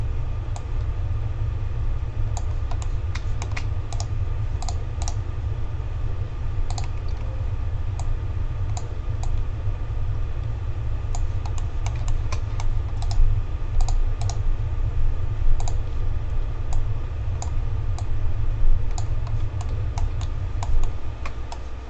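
A computer mouse clicks in quick, irregular runs at a desk while a custom Mario Kart Wii track is textured, the sharp clicks sitting over a steady low hum.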